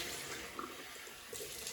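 Tap water runs into a sink to rinse off after a wet shave, a soft, fairly quiet splashing stream that carries on without a break, with no talk over it.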